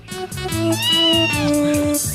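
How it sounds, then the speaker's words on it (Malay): A cat meows in a long, loud, drawn-out call with wavering pitch, close and clear, with no talking over it. "Meow. Cat."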